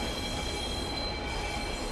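Train wheels squeal in the dark horror game Condemned: Criminal Origins, a steady, loud metallic screech with constant rail rumble underneath, sustained without a break for about two seconds.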